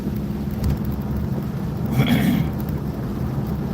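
Heavy rain while driving a car on wet roads in Scotland, a steady low rumble with hiss, swelling briefly midway as a splash or passing gust rises over the noise.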